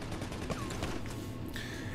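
Gunfire in GTA 5 Online during a Diamond Casino mission: a dense continuous volley of rapid automatic shots, loud and close, running throughout.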